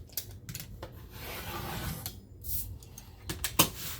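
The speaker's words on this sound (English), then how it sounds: "Now we're just going to go around and trim off the excess." Scissors or a blade trim excess paper around a chipboard recipe binder cover, giving soft close rubbing and rasping strokes with a few sharper snips near the end, no talking.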